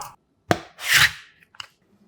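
A knife slices half a peeled potato into 0.4 cm slices on a cutting board, giving a few sharp, distinct cuts with pauses between them, close and clear.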